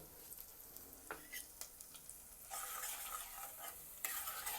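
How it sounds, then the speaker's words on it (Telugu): Mustard seeds and fenugreek splutter in hot oil, with soft stirring scrapes first and then bursts of dense crackling popping that swell and fade; quiet and close, no voices. "మెంతులు వేగాయి, ఆవాలు కూడా చిట్టుపట్లాడుతున్నాయి."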